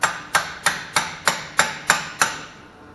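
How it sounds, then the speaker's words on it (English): Eight evenly spaced, sharp metallic hammer strikes drive a punch or chisel to straighten lock-nut tabs on a truck wheel bearing, each ringing briefly before the next, close and loud with no talk. "You just take a punch or a chisel and straighten them back out."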